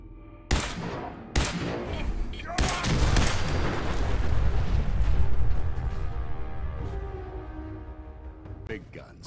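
Heavy big-gun fire in Fallout 4: two sharp, loud blasts, then a third that opens into a long rumbling barrage and roar that slowly fades, with speech over it.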